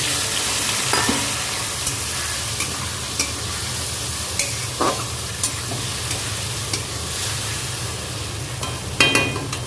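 Spice paste of ginger, cumin, chilli and turmeric added to fried potatoes in hot oil, a continuous close sizzle broken by repeated sharp scrapes and clicks of a stirring spoon against the pan.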